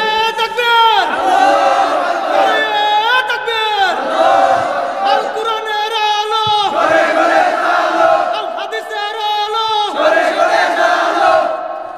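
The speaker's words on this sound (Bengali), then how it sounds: "তাকবীর দেন সবাই, লিল্লাহি তাকবীর" A large crowd at a religious gathering roars a takbir chant in repeated loud surging shouts, each call rising and falling in turn, answering a voice over a sound system.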